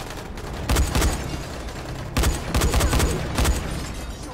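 Gunfire from the Dying Light video game: loud bursts of rapid shots come in two main clusters over a steady roar of game noise, with no one talking.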